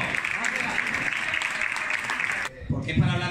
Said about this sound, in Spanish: Un saludo y un aplauso para José María Cañizares en este caso